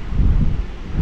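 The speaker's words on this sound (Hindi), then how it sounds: "हवा चल रही है" Wind blows hard at a Matheran hill station viewpoint, roaring and buffeting the microphone as a loud, low, continuous rumble, with no talk.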